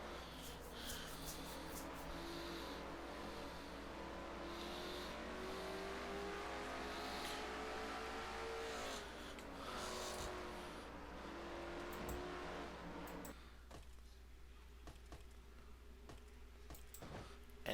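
Stock car engines roar at North Wilkesboro in a racing game, a steady loud drone with rising and falling pitch as the cars accelerate and shift, then drop to a lower hum near the end.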